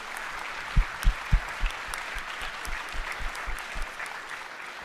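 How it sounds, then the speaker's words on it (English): Applause from an audience at a FIRST Tech Challenge robotics qualifier awards ceremony, honoring the judges: a few sharp distinct claps, then lighter scattered clapping fading over a few seconds, heard from a moderate distance. "Let's give them a big round of applause for their dedication."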